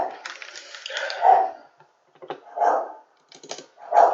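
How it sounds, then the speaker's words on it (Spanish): A small female dog barks indoors at home, giving three sharp, fairly close barks spaced a second or so apart with quiet gaps between. "Me perdona la perrita que tengo acá"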